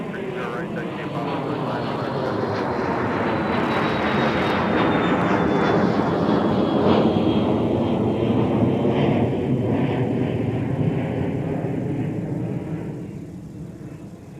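A jet airliner takes off from runway 30 right at Minneapolis–Saint Paul airport with a loud, sustained roar. The roar swells as the plane passes, and a descending whine trails off as it climbs away. Radio chatter runs underneath.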